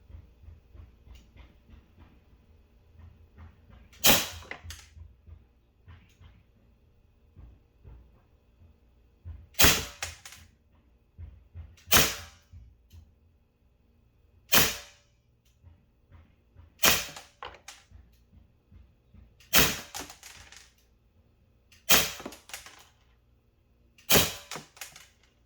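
Umarex SA10 CO2 pellet pistol firing BBs, eight sharp cracks spaced several seconds apart over a quiet background, each shot crisp and close.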